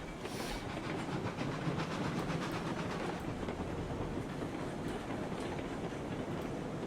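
Train pulling hopper cars in the RailRoads Online video game, with continuous rolling clickety-clack and rumble plus a faint steam hiss, steady and fairly loud without speech.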